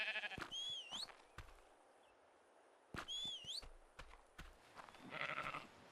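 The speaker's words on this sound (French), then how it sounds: "Le mouton." Sheep bleating in the video game Ark: Survival Ascended on the Valguero map: two separate wavering, nasal bleats a few seconds apart, close and clear, with quieter game ambience between them.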